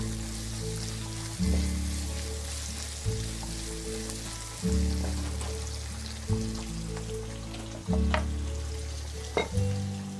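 Onion and sweet pepper frying in a pan for rad na, a constant crackling sizzle punctuated by periodic stirring bursts every couple of seconds, close and unvoiced.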